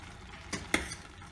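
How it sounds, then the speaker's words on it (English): Chana dal stirred in a pot of hot water while making puran poli, giving two short clinks of a spoon against the pot with a quiet simmer between them and no talk. "So I've added all the chana dal and I'm stirring it."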